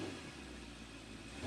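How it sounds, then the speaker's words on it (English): A BMW X7 M60i's S68 engine runs with a steady, close mid-pitched rumble that swells slightly at the very end. "start it up, so you can hear that S68 engine"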